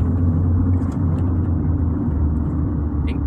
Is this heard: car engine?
yes